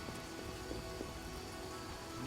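Steady rain falls across a wet camp setting in The Witcher video game, a dense, even hiss with scattered droplet ticks throughout, no voices.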